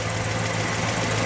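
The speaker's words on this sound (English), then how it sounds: "Oh, it runs super smooth. Let me just listen to it idle." A 1958 Plymouth Belvedere with glass pack exhaust idles steadily, a loud, even low rumble heard up close without break.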